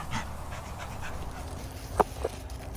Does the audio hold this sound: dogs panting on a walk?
yes